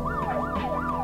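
Wailing police siren in the Test Tube Titans video game, a steady rising-and-falling tone cycling about three times over a low rumble of traffic, loud and continuous with no voices.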